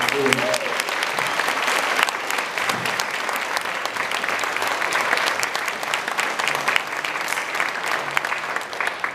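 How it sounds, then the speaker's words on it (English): Sustained audience applause for the musicians of a band in a church, a dense, steady roar of many hands clapping that holds at an even level for the whole stretch, with a brief voice near the start. "Please give them a round of applause"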